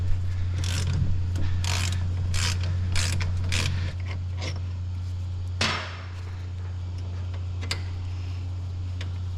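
A hand wrench works a wheel bolt loose on a Ferrari F430 during a brake service, making several close ratcheting clicks and metallic creaks in short bursts over a constant low hum.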